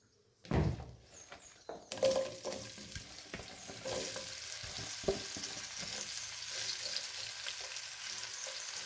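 Ivy gourd coated with turmeric, chilli powder and salt drops into hot coconut oil with ginger-garlic paste, bursting into a loud close sizzle that settles into steady frying with occasional stirring scrapes; no talking.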